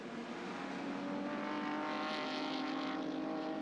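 A race car at the 1986 Sandown 500 winds up through fourth gear on an uphill back straight, its engine a steady, loud, rising drone with no voices over it.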